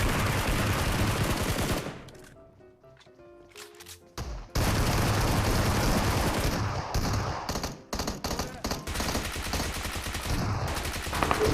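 Loud gunfire in the mobile battle game PUBG Mobile: dense rapid bursts of automatic shots, a brief lull with scattered distant shots, then sustained heavy firing again.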